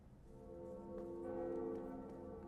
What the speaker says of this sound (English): Ring the second bell.